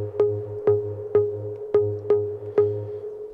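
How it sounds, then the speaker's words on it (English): A low synth pluck patch built in Serum: six evenly spaced plucked notes with sharp attacks and short decays over a steady low tone, clear and prominent, no voices. "And the low pluck that sounds like this."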